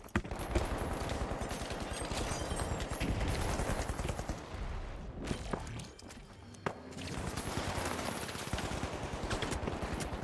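Rapid automatic gunfire from the video game The Finals, dense bursts of shots rattling nearly continuously, with a brief lull midway before the firing resumes loud and close.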